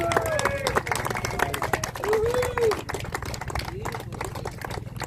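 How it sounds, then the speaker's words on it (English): An audience claps in sustained, dense applause for Shelley and Vicky at the opening of a respite river retreat, with crowd noise and a few voices mixed in. "So Shelley, Vicky, a big round of applause, ladies and gentlemen."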